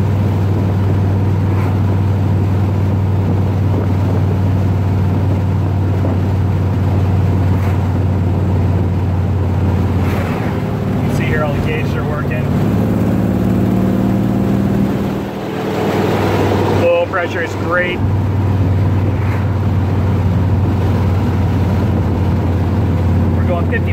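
A 1971 Corvette with a 454 engine drones steadily while driving at speed, a constant low engine hum with road and wind noise that shifts briefly midway.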